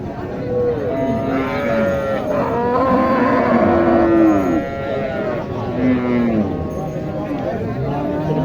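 A Sahiwal cow moos loudly several times at a busy village cattle market, its long lowing calls rising over a background of crowd chatter and people talking nearby.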